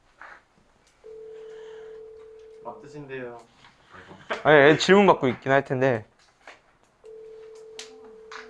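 A phone call rings out while waiting for an answer, a steady ringback tone sounding alone for a couple of seconds, then returning near the end after a stretch of lively talk between people.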